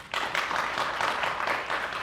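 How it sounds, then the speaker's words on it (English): Round of applause at a graduation ceremony, a dense burst of many hands clapping that starts abruptly and stays steady and moderately loud for a couple of seconds. "with a round of applause"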